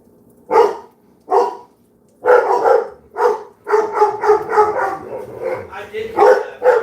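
A pet dog named Pressure barks at people outside, giving a few separate sharp barks followed by a quicker run of yips, close by, with a person talking around the barking.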